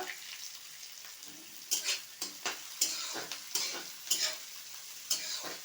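Chopped garlic, onion and green chili fry in hot oil for a Bengali taro curry, a steady close sizzle broken by a series of sharp spatula stirs and scrapes against the pan.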